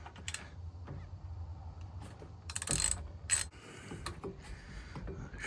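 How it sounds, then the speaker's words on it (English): Metallic clicks, clunks and rattles come from a brake caliper being worked off a Vespa PX, with a couple of louder scraping bursts in the middle, close and fairly quiet, no talking. "Flip it round, now I've got the caliper to take off."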